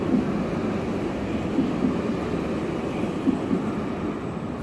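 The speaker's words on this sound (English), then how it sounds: "This is the new light train that they had just got done building in Jerusalem." A steady low rumble of a Jerusalem light rail train rolling past, continuous and fairly loud, with faint rhythmic clunks from the wheels.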